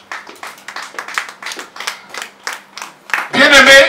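A church congregation claps in praise, a run of separate, fairly loud claps building into a brief burst of louder applause at the end.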